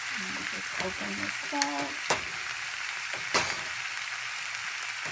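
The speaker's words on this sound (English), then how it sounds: "saute the vegetables and until they get a little bit tender" Vegetables for German noodles sauté in a pan with a steady crackling sizzle, and a few sharp clacks of a utensil stand out as a person speaks briefly at the start.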